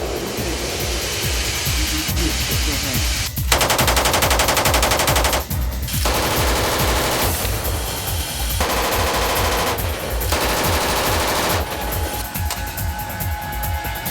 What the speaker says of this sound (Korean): 그리고 마지막 사격.